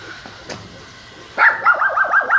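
A dog yips and whimpers in a short excited burst, close and fairly loud after a quieter start, with no talk over it.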